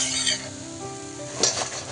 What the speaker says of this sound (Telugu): ఇలా వేసుకొని మొత్తం అన్నీ మంచిగా ఫ్రై అయ్యేంత వరకు ఫ్రై చేసుకోవాలి.